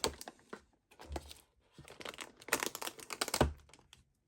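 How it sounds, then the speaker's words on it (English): Plastic wrap around an iPad Air crinkles and crackles as it is handled during unboxing, coming in irregular bursts of close, sharp rustling with brief pauses between, fairly quiet and with no talking. "It is actually in the plastic wrap."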